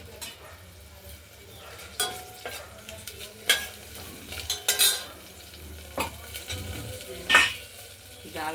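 Chilli, bay leaf, cumin and mung dal frying in oil inside a pressure cooker, a soft steady sizzle with intermittent clinks and scrapes of a spoon stirring against the metal pot.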